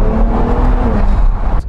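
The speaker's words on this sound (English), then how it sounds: "kind of hear those turbos a little bit." Twin-turbo 2022 Acura NSX Type-S heard from inside while driving, a loud steady engine drone with a faint turbo whir and a brief whoosh at the end.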